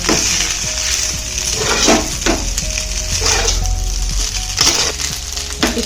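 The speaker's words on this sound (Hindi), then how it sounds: "इसको ऐसे बार बार हिलाते हुए पलटते हुए, ताकि वो तले में भी न लगे, हल्की सी पकड़े।" Noodles stirred and turned in a hot frying pan, with a continuous loud sizzle and repeated scraping and clinking of the utensil against the pan in an uneven rhythm.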